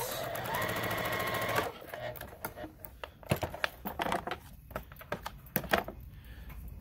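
A sewing machine stitches two quilt block pieces together with a steady close whirring run, then stops into a scatter of short clicks and taps as the fabric is handled; a voice talks quietly at times.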